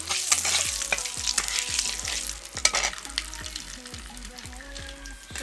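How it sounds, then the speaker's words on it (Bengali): Dried red chillies and cumin fry in hot mustard oil with a steady crackling sizzle, punctuated by repeated knocks and scrapes of stirring, close and continuous with no talk. "তেলের মধ্যে দিয়ে দিচ্ছি শুকনো লঙ্কা, শুকনো লঙ্কা জিরে সামান্য ভেজে নেব।"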